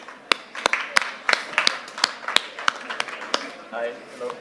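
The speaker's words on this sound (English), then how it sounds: "Can we please have the warmest applause for them?" Scattered, sparse clapping from a small panel audience greeting speakers at a food-system discussion, with a dozen or so distinct, sharp claps spread unevenly over several seconds.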